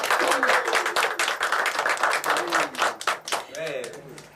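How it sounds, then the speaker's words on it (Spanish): A classroom group claps for students after a presentation, a burst of close, dense hand clapping that thins out toward the end while a voice speaks over it. "Aplausos."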